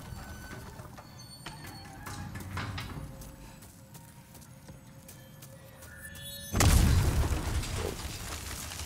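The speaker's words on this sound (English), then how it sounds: "That is a very big explosion." In Demon's Souls, a sudden heavy boom erupts after several seconds of quieter clattering game sounds, then rumbles loudly and decays; no talk is heard over it.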